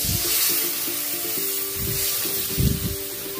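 Water hits frying tomatoes in a hot pan, giving a steady, broad hiss and sizzle with faint crackles and bubbling bursts throughout.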